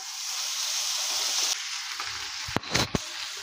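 Fish frying in a pan, a steady loud sizzle with a few brief clatters of utensils near the end.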